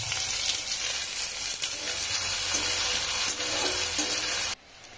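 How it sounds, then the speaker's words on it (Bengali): Onion and garlic frying in a pan with a large cardamom pod and a cinnamon stick, a steady loud sizzle with crackle that runs unbroken and then drops away sharply near the end. "পেঁয়াজ আর রসুন ভালো করে আমি ভেজে নেব।"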